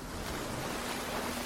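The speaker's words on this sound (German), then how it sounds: "Natürlich von der Welle mitgerissen und gestorben." A rushing wave sweeps the player away in the Shadow of the Tomb Raider video game, heard as a steady, loud, broadband roar of surging water with no breaks.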